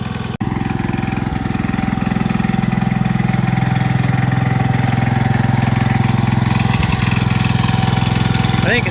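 John Deere 112H garden tractor engine, long unused, running with a steady, loud, chugging idle after a brief cut at the start, its pulsing low drone continuous and close.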